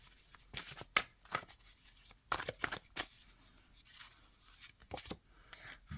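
Tarot cards being drawn and handled from a deck, with soft scattered flicks, slides and snaps of card stock, faint and close, with no talk.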